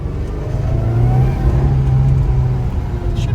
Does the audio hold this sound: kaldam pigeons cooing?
no